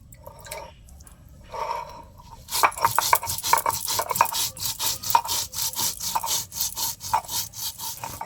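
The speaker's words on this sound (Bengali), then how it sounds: "আমি শিলপাটায় একটু মশলা করে নেব।" Cumin seeds are ground by hand on a stone shil-pata slab in a home kitchen, heard as steady, rhythmic scraping and rubbing strokes that start after a quiet opening and continue close up, with no talking.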